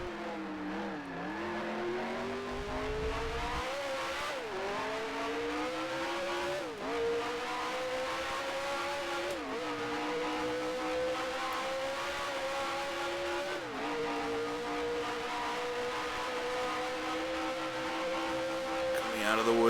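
Race car engine on track in the Grand Prix Legends video game, a continuous loud engine note rising with each acceleration and dropping sharply at repeated gear shifts across the whole stretch.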